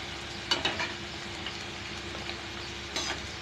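Banana flower pakoda frying in hot oil over a medium flame, a steady soft sizzle with a few clinks of a utensil stirring in the pan, near and without talk.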